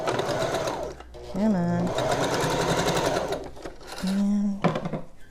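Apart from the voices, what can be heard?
sewing machine stitching a mask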